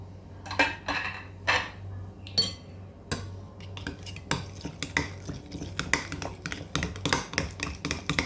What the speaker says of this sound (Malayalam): ഇതൊക്കെ കൂടെ ഇനി ഒന്ന് മിക്സ് ചെയ്യുക